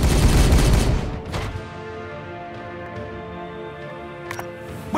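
A loud, dense volley of squad gunfire from Warhammer 40000: Regicide, sustained for about a second before cutting off, leaving sparse distant pops and a faint ambient drone.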